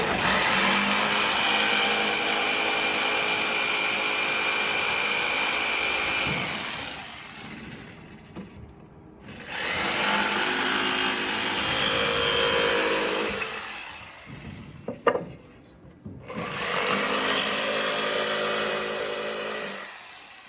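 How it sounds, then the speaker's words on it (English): Jigsaw cutting a notch into a wooden window sill in three loud buzzing bursts, the first about seven seconds long and the others shorter, with brief pauses and a sharp knock between them. "we're going to take our jigsaw and plug it in and finish our notch."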